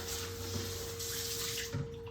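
A foot care basin is rinsed under a running tap in a sink, water flowing steadily and loudly with brief splashes as the basin shifts, no talk.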